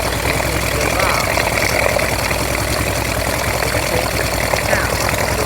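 Restored engine with carburetor and alternator ticking over at steady idle, close and loud, a constant low rumble with rhythmic pulsing and rattly mechanical texture held evenly from start to finish.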